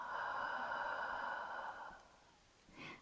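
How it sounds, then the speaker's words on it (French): A long, deep breath during a beginner shoulder yoga session, steady and breathy for about two seconds, then fading, with a short faint breath sound at the end; no talking. "Expirez profondément"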